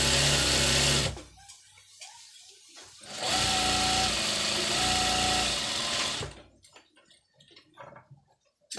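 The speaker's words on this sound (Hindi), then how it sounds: "डबल सिलाई लगाना है।" A sewing machine runs double stitching on trousers in two loud continuous bursts of rapid needle chatter, separated by a pause filled with faint handling clicks and rustles.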